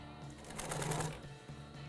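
An upholstery sewing machine stitches an inside corner seam with a steady, close mechanical hum and a rapid needle rhythm that swells briefly in the middle.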